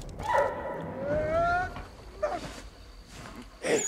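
A dog in the Valiant Hearts video game gives a few short yips and barks, scattered between stretches of nearby male speech that carry through most of the moment.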